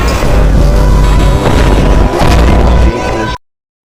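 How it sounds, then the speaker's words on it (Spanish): Hippopotamus sounds used as a recreated Tyrannosaurus rex roar: a loud, deep, rumbling bellow sustained for about three seconds with rough bursts, then cut off abruptly into silence. "Estos sonidos son literalmente sonidos de hipopótamos."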